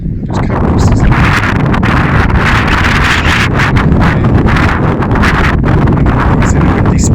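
Strong gusting wind during Storm Betty at an exposed wild camp, loud continuous buffeting and roar across the microphone with rustling flutter, close and unbroken for the whole stretch.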